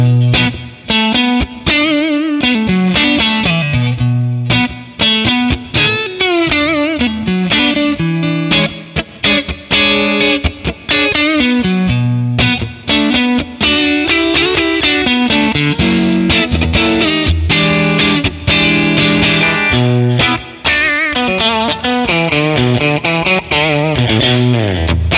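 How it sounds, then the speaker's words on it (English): An electric guitar plays through a 1964 Selmer Treble n Bass 50 amp with reverb added, giving a bluesy, crunchy, distorted tone. The phrases are loud and continuous, with chords and single notes ringing out and no talking. "Let's add some reverb."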